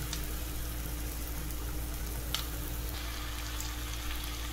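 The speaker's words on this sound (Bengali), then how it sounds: "এবার ভাজা মুড়োটা একটু ভেঙে ভেঙে দিয়ে দেবো।" A pan of fish head cooked with tomato and spices for muri ghonto keeps up a soft, even sizzle, continuous and fairly quiet, with one faint clink partway through.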